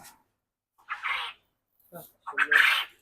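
Quail kept in a converted chicken home give short squawking calls: one burst, then a brief faint chirp, then a louder call near the end, all close by against a quiet background.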